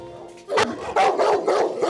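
A dog barks repeatedly at close range in a high-rise residential building, several sharp loud barks in quick succession after a brief lead-in.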